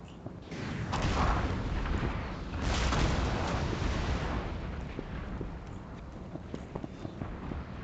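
Artillery guns fire in a Napoleon Total War battle, heavy deep booms rolling out and swelling twice before fading into a rumbling din of distant battlefield noise and scattered crackles.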